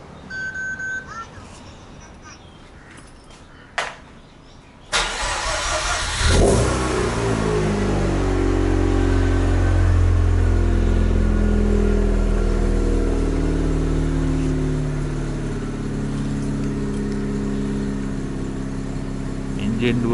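A Mazda RX-8's naturally aspirated two-rotor 13B MSP rotary engine, with no catalytic converter, cranks and fires up after a few quiet seconds, then revs loudly and settles into a rough, throbbing idle close by.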